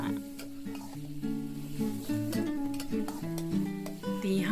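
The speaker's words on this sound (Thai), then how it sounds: "ผัดหมูให้สุกก่อนค่ะ" Minced pork being stir-fried in a pan for a bamboo shoot dish, with a steady sizzle and occasional stirring scrapes close up.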